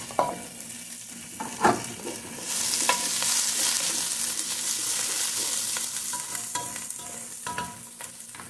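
Onions sauté in hot oil for sinigang na bangus (milkfish). A steady, close sizzle swells partway through, broken by scattered clicks and scrapes of stirring. No voices.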